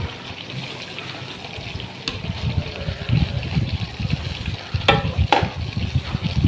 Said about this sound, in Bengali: এই যে তেলটা গরম হয়ে গেছে, এখন আমি পিঠাটা ছিঁড়ে দেব।